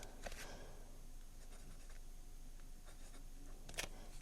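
A Jowo number 6 Elastic Fine fountain pen nib on a pink and gold BENU Haute pen scratches faintly across paper in short, soft strokes, close up and quiet, with a brief sharper scrape near the end.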